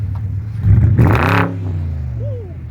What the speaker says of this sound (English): Can I get like a light rev?